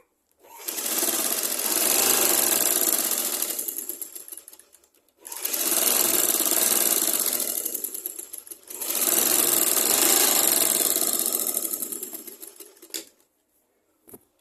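Sewing machine stitching a blouse on a skirt, three long runs of fast, loud mechanical rattling lasting several seconds each, separated by brief stops.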